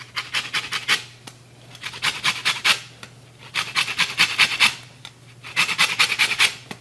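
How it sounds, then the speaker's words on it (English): Lemon rind rasped over a zester in repeated bursts of fine scratching strokes, close and fairly loud, with short pauses between rounds while cooking fish. "I'm going to use a little zest of the lemon"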